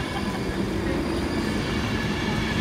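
A train runs through Wigan North Western station with a constant broad rumble and rail roar, steady and fairly close throughout, no voices.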